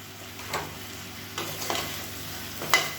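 Mushrooms sautéing in a pan with ginger-garlic paste, a few spaced spoon scrapes over a low, steady sizzle, close and fairly quiet.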